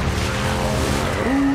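Tires skid during an e-brake turn in the video game Days Gone: a steady engine drone gives way to a short, sharp tonal squeal near the end.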